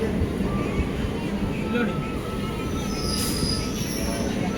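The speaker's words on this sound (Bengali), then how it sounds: "এবার ট্রেন একে একে পার হলো চন্দননগর।" Bandel–Howrah early-morning all-stop local train running on rails past Chandannagar, a steady loud rumble with brief high-pitched wheel squeal partway through.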